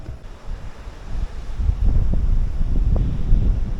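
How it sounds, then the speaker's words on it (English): Wind buffets the microphone in a low, rumbling roar that builds and stays strong at an outdoor campsite, with no voices. "It's windy out right now"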